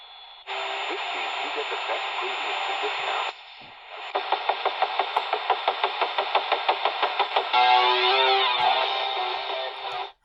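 Music received on AM radio station 940 WFAW, Fort Atkinson, Wisconsin, through a portable AM/FM radio, a thin, band-limited tune with a pulsing rhythmic beat, steady and moderately loud, briefly dropping out between passages.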